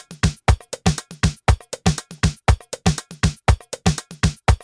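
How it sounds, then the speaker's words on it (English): Arab percussion drum loop sample playing a crisp, loud, evenly repeating hand-drum pattern of sharp hits with deep low thumps, about sixteen strokes in a steady driving rhythm, heard alone. "I'm going to use this one called Arab Percussion Loop 4C."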